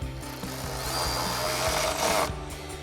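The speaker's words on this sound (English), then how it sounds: "grab our 12mm socket to tighten down our main mounting bolt first" A 12mm socket tightens a mounting bolt for a 6-inch nerf side step bar on a Jeep Wrangler JL, giving a run of close, rhythmic low thumps with metallic rubbing that builds before stopping.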